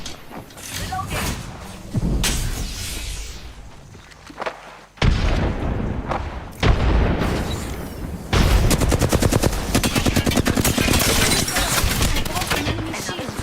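Automatic gunfire from Wattson's weapon in a battle-royale shooter match, loud rapid bursts of shots with a sustained rattling stretch near the end, mixed with game effects and character voice lines.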